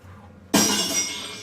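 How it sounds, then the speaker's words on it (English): Glass shatters abruptly after a short silence, one loud crash that trails off into a bright spray of tinkling shards within a second. "Hear glass breaking."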